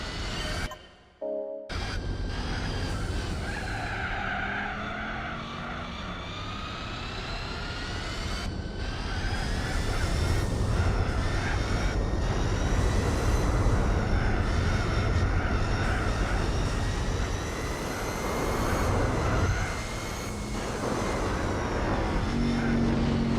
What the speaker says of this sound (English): So basically we are driving in a Porsche.